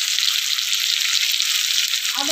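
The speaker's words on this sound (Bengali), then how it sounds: "এইবার পড়ে গেল ডুমো ডুমো করে আলু। আলুটা ভাজা হবে" Diced potatoes and onion frying in a pan, a steady loud sizzle with crackling oil throughout, close and uninterrupted, with no voices over it.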